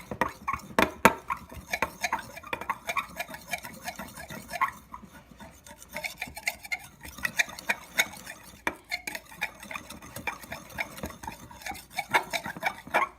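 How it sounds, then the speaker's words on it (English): A knife stirs baking soda into homemade slime, producing a steady run of close scraping, clicking and squelching taps against the bowl over a quiet background. "And we're just gonna mix it in. Get all the baking soda."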